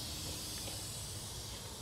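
All-purpose cleaner sprayed across the engine bay of a Holden VX V6: a steady, close hiss with no pauses and no talking.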